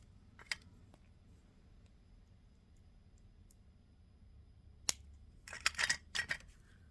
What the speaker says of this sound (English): we'll cut our extra wire off right here